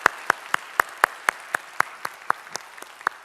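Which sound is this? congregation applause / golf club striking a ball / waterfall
congregation applause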